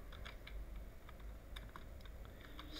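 Fingers type quickly on a computer keyboard while writing LaTeX mathematical notation, a faint, close run of irregular key clicks with a few sharper taps, heard alone.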